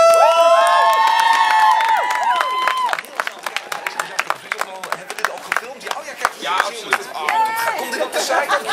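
A crowd at a flashmob set to Pink's 'Raise Your Glass' breaks into cheering, whooping and sustained clapping, loud and close, with shouted voices over the applause.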